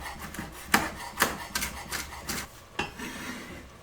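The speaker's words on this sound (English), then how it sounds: "I'm also just going to chop up some thyme" A knife chops fresh thyme on a wooden board for a beef stew. Several sharp, uneven taps come through close up, with some rubbing and scraping between the cuts and no talking.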